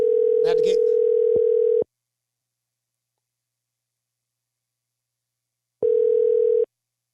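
Phone ringback tone during a call-back, two long steady beeps separated by about four seconds of silence, with a short burst of speech over the first tone.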